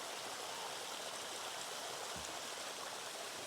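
Water rushes steadily down the Hamsala waterfall stream among rocks, a dense, even roar heard close and alone without any voices.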